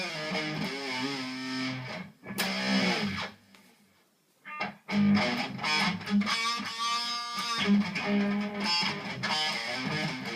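A distorted electric guitar, a 1970s Masada lawsuit-era Les Paul copy, plays a solo of sustained, singing notes washed in reverb, with a short pause midway.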